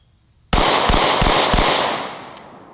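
A 5.7x28 green tip handgun round fired into a giant sandbox backstop outdoors: four loud, sharp shots in quick succession, close to the microphone, their reverberation lingering and fading afterward.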